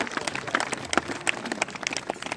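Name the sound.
applause for a teacher at a school event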